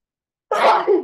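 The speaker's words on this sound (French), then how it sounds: "Je vais éternuer." A single loud sneeze bursts out after half a second of silence, close and sharp, trailing off with a brief second breathy push.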